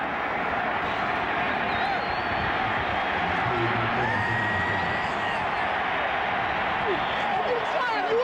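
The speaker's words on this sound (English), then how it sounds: "The celebration here at the stadium is underway" A huge stadium crowd roaring and cheering in celebration at the 2001 Outback Bowl football game between South Carolina and Ohio State, a steady, dense roar with whoops, under a commentator's voice.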